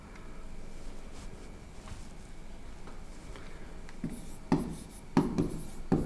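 Writing on a board during a Hindi grammar lesson makes faint, steady scratching strokes, followed near the end by a few sharper taps and scrapes.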